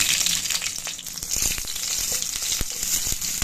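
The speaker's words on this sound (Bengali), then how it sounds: "তেলটা গরম হয়ে গেছে, এবার এর মধ্যে দিয়ে দেব শুকনো মরিচ। এরপরে এর মধ্যে দিয়ে দেব কেটে রাখা রসুন।" Dried chili and chopped garlic fry in hot oil with a loud, steady sizzle, and a few brief stirring knocks and scrapes come through close up; no voices are heard.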